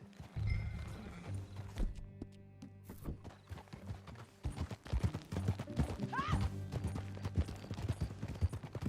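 Hooves clip-clop in quick gallop rhythm as a horse runs in the video game Red Dead Redemption 2, with a whinny partway through and a steady rumbling game soundscape beneath, fairly close.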